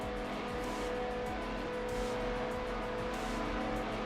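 Race car engine overrun from the Hot Wheels World Race video game, a steady buzzing drone with crackling off-throttle tones, continuous and fairly loud with no talk.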